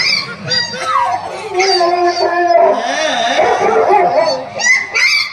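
Several dogs howl together in long, wavering, overlapping cries, loud and close, rising and falling for the whole stretch.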